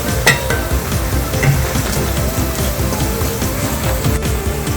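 Spice masala roasts in a pan for a Kerala-style mackerel curry, with a steady, close sizzle and frying hiss broken by scraping stir strokes throughout, and no talking.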